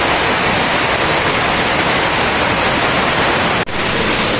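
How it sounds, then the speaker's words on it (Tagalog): Heavy rain pours down while mountain runoff floods through Balagbag, a steady, loud, unbroken roar of falling and rushing water that fills the scene without voices, dropping out for a split second near the end. "Ayan oh, lakas ng ulan"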